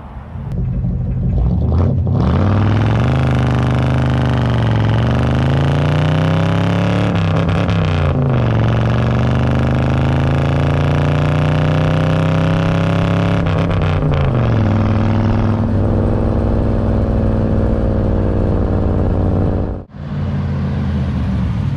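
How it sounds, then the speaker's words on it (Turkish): A Ford Custom 300 Fordor V8 engine runs loudly and steadily up close, its pitch swelling and dropping through several revs over a deep continuous rumble, with no one talking. "O muhteşem V8 sesini de duyacağız arkadaşlar."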